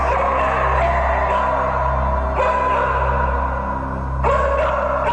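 Police sniffer dogs bark and yip repeatedly in an investigation, sharp calls standing out over a steady low hum, without any voices.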